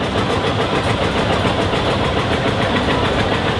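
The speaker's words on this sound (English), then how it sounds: "Did you buy that tractor new, Wayne?" A 1964 560 tractor engine runs steadily during a parade of power at a summer show, a loud, close, continuous mid-range drone with no pauses throughout.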